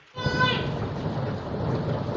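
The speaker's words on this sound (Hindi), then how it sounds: "तो बारिश होना शुरू हो गई है जी" Steady rain hissing down with a deep rumble underneath, starting abruptly and continuing evenly; a faint voice is briefly audible at the start.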